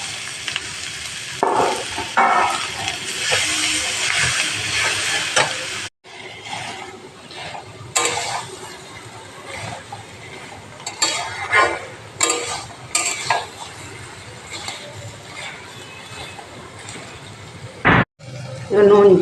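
Paneer (chhena) frying in a pan with stirring and scraping, a steady close sizzle with intermittent utensil clatter and a few sharp knocks, dropping out briefly near the middle and again close to the end; a voice speaks over parts of it.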